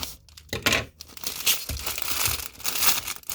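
A tape-sealed diamond painting kit package is torn open by hand, with crinkling plastic and short bursts of ripping close by, loud and continuous across a few seconds, no voices.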